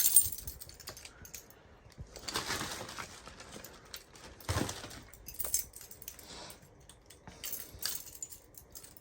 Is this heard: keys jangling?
yes